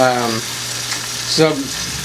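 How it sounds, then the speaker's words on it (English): Venison cooking over charcoal briquettes and hickory coals gives a steady, close sizzle, with brief vocal sounds briefly rising above it at the start and again near the end. "I'm going to go ahead and cook them again, but I'm going to cook them to a medium heat"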